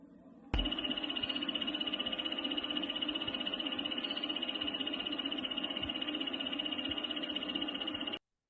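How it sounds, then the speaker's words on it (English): Tiny rainforest frogs call loudly in a continuous, rapid, high-pitched trill that switches on abruptly and holds steady for several seconds before cutting off, dense and insect-like. "they are loud calls for such a tiny frog"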